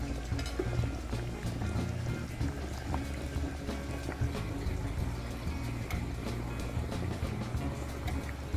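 Leftover seasoning sauce from a pot of Jamaican cowfoot with butter beans being poured into the cooking pot, a steady, faint liquid wash over a low rumble, continuous and without pauses.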